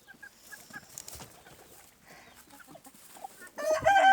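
Chickens cluck softly in short bursts nearby in a garden, then a rooster's loud crow rises near the end over faint farmyard background.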